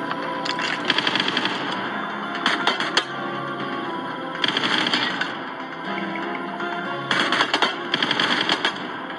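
Gunfire in a sniper video game comes in several rapid automatic bursts, sharp crackling volleys separated by short pauses over a constant backdrop of game music and ambience.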